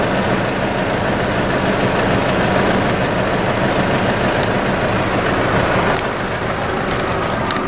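A hedge trimmer flail rotor spins down after cutting, giving a steady dense whirring rush mixed with a tractor engine idling, loud and close with no talk.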